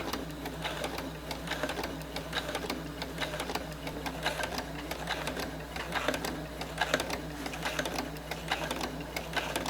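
A sewing machine quilting a fall table runner runs in a fast, even stream of needle strokes, close and steady for about ten seconds.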